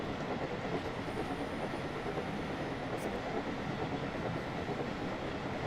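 Thomas the tank engine runs at speed along the Great Western Railway in a video game, giving a steady, dense rumble of wheels on track with brief high squeals, heard alone.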